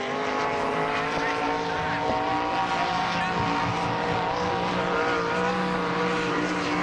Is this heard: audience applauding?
no